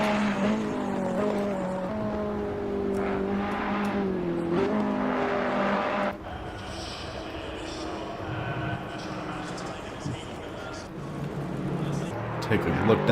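Ferrari race car engine in a sim racing game, a loud, sustained engine drone with shifting pitch that sweeps past, joined by a second car's sound midway, all under steady commentary talk.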